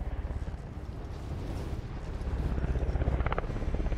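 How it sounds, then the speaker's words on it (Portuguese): Helicopter in Call of Duty Warzone thuds with a rhythmic rotor chop that grows louder and faster toward the end, heard alone against a dense game background. "Ó, vamos derrubar esse helicóptero, a gente garante aí o jogo."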